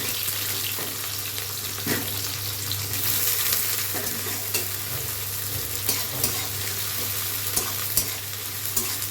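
Chopped onions frying in mustard oil and ghee, a continuous dense sizzle with occasional stirring clicks, steady and fairly close.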